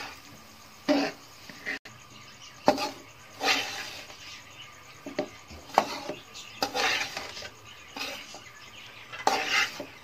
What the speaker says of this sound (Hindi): अभी हम इसमें सूजी ऐड करेंगे।